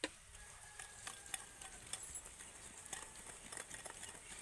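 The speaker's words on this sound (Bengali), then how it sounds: "প্রথমে আমি চিনির সাথে তেলটা ভালো করে মিশিয়ে নেব" A utensil mixes oil with sugar in a bowl for cake batter, making faint, steady scraping and stirring swishes with soft clinks, close but quiet, with no talking.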